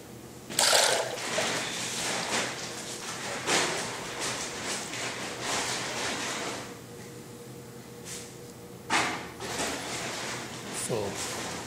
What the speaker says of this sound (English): I pour it out.